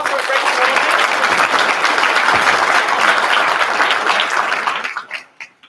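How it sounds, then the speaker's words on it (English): Parents at a seventh-grade choir preview concert give the singers a sustained round of applause, thick and steady for about five seconds before fading out into scattered claps. "Can we give them another round of applause for a great"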